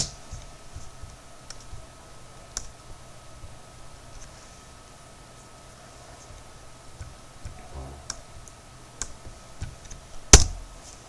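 Typing on a computer keyboard: scattered soft key clicks over a quiet hum, ending in one sharp, louder keystroke near the end.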